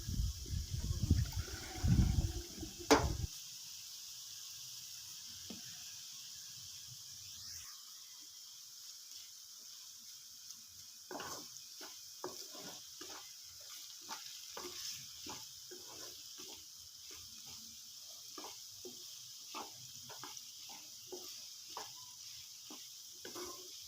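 Potato curry frying in a pan with turmeric being stirred in, a loud burst of sizzle at the start giving way to repeated soft spoon scrapes and taps over a faint steady fry.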